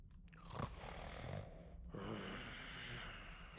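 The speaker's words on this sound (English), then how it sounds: "It's someone snoring." Someone snores inside the stealth game Thief II, heard close and alone: a few slow, rasping in-breaths and snorts spread over a few seconds against a low ambient hum, with no talking.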